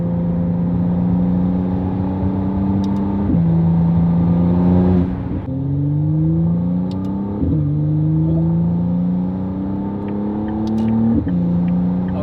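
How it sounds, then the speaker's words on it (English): A McLaren Artura's engine revs through repeated rising sweeps to about 4,500 RPM, each climb cut off by the ignition cut and restarting, loud and close with a raspy Valvetronic Designs free-flow race exhaust note and no voices. "as we continue to warm up the car, you'll see and hear how much of a difference this exhaust makes"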